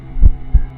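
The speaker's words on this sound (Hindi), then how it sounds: "अयान का दिल जोर जोर से धड़कने लगा।" Two deep, heavy heartbeat thumps in a slow rhythm over a low hum, loud and close, used as a tense sound effect in a horror story.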